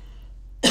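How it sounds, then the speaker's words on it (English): A single short cough bursts out near the end after a quiet stretch, close and fairly loud. "Pardon me if I have to cough."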